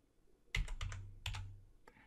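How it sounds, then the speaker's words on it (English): A few quick computer keyboard keystrokes, two short bursts of close, quiet clacking in an otherwise silent room. "Now I've just typed the first few letters this time"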